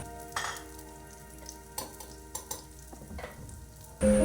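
Shallots and curry leaves sauté in hot coconut oil, a faint steady sizzle broken by a few soft stirring scrapes, ending in a sudden louder burst of frying.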